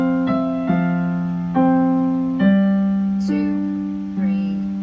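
Piano passage played with both hands, a student-level piece: a slow series of sustained chords and notes struck one after another about every second, clear and close with no talking.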